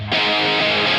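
A sustained, buzzing electric guitar chord with heavy distortion from a NUX Cerberus pedal kicks in after a brief quiet start and rings out loudly to the end.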